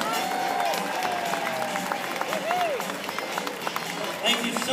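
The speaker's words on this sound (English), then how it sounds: "Let's give a big round of applause for the Olates and their dogs, the 2012 America's Got Talent winners." An audience claps for the Olates and their dogs, the 2012 America's Got Talent winners, at a Celebrate Dogs show in Orlando. Steady applause fills the room with crowd noise and some shouts mixed in, and a few voices whistle or call out over it.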